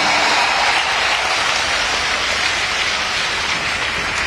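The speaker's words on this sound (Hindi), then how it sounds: "और आपके हाथ की तालियां जरा हाथ उठाकर" A large audience bursts into dense, continuous applause, a loud, steady wash of clapping hands that fills the whole stretch with no voices over it.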